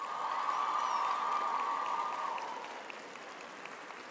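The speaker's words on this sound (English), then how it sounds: "I want you to give a warm round of applause to the people sitting in the stands" Audience applause at a university humanities faculty graduation ceremony, a dense steady roar of many clapping hands filling the hall, loud at first and gradually thinning and fading toward the end.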